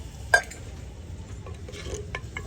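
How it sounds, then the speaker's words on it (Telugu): A utensil stirs country chicken curry in a pot, with a sharp clink early on followed by soft scraping and faint bubbling nearby. "అప్పుడు నీట్గా కలుపుకొని"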